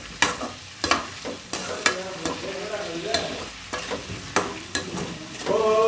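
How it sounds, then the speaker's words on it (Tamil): Tomato and onion sautéing in a pan, a soft continuous sizzle broken by regular scraping stirs of a spoon against the pan, close and clear with no talking. "தக்காளி நல்லா வதங்கின பிற்பாடு தக்காளி வெங்காயம் ரெண்டுமே நல்லா வதங்கணும்."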